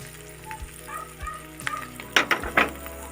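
Tinda and egg sabzi with fresh coriander leaves being mixed in a pan, giving a soft sizzle with a few sharp spoon scrapes and clinks near the end, all close up with no talking.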